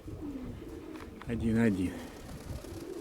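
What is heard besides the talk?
pigeons cooing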